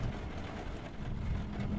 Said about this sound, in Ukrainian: Грім гримий, чуєте?